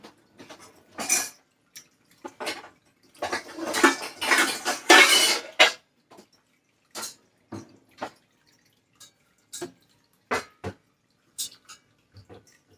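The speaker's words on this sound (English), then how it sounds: "I'm getting a smaller, or one of our larger rearward pans" Metal pans are handled in a kitchen while preparing okonomiyaki. Bursts of clattering and clanking come at irregular intervals, close and fairly loud, with quiet gaps between them.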